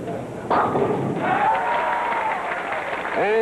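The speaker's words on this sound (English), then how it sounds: "Now, Tontis will be attempting to make a double, so we'll have double coverage of his shot." A bowling ball crashes into the pins at a 1966 professional tournament, a sudden thud and clatter followed by crowd noise and a commentator's voice.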